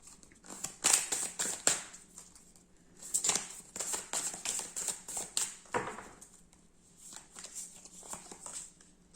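Tarot cards handled and shuffled at a table, a run of crisp riffling and flicking bursts with soft card slaps between them, fairly close and alone with no talk.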